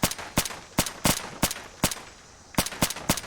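Quick, evenly spaced single shots from a VSV rifle tap-fired in Fallout 4, about a dozen loud close cracks in a steady rhythm with a short pause before the final few.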